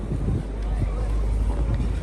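Steady wind buffets the microphone with a low rumbling roar throughout, and a voice talks faintly underneath.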